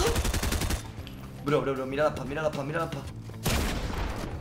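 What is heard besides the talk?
gunshots from the video game Fortnite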